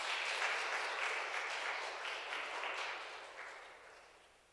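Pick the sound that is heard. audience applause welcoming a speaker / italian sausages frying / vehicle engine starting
audience applause welcoming a speaker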